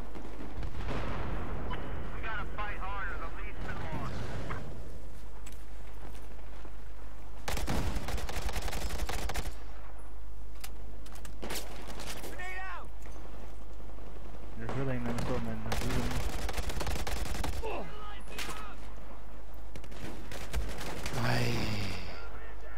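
Suppressed gunfire in Battlefield 4 comes in several loud bursts of muffled shots over continuous game noise, with a voice talking between the volleys.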